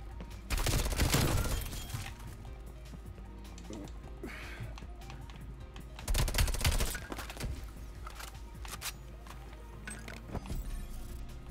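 Gunfire in a Black Ops Cold War Gunfight match, rapid bursts of shots with sharp cracks clustered around two louder volleys, set against a steady low game rumble with no talk.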